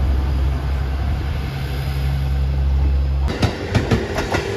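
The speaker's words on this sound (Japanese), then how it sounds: "普通列車吉備線岡山駅キハ47系普通気動車です" A JR Kiha 47 diesel railcar on the Kibi Line at Soja Station gives a steady low diesel drone, then rhythmic wheel clatter and sharp rail clicks as it moves off nearby.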